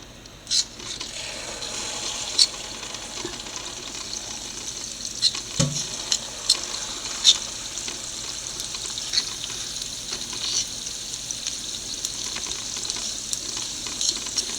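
Maida bonda batter dropped by spoonfuls into hot oil, a steady close frying sizzle with sharp bursts and crackles as each portion hits the oil, no voices.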